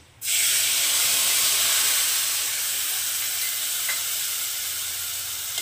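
Spice paste of ginger, cumin, coriander, chilli, turmeric and salt hitting hot oil in a pan, bursting into a loud, hissing sizzle that holds steady and fades only slightly, close and without talk.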